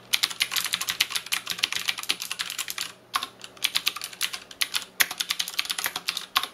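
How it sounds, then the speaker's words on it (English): Rapid, continuous typing on a mechanical keyboard with Cherry MX Blue switches, crisp clicky keystrokes close up in steady bursts with a brief pause partway through, no voices. "Now I'm gonna go to my blue keyboard."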